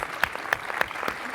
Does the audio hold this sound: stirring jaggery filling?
no